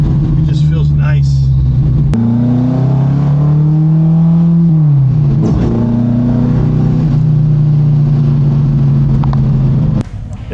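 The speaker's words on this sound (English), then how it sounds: "It's a 1969 Mustang, a true Mach 1." A 1969 Ford Mustang Mach 1 with a pro street build revs loudly and holds a deep, rumbling drone that rises and falls across several throttle swells, heard from inside the car while driving.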